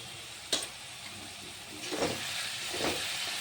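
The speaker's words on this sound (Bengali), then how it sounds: "এই ভালো করে কষে নেব।" Chicken with chopped tomato, salt and turmeric sautéing in a pan for a country-chicken and green pea curry, a steady close sizzle with a sharp clatter near the start and a few swelling stir scrapes later on.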